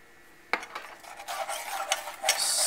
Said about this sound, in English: Stir this up, and we want to keep stirring.